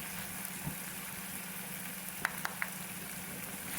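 Chicken liver and spices fry on a tawa in a faint, steady sizzle with a low background hum and a few small clicks of utensils.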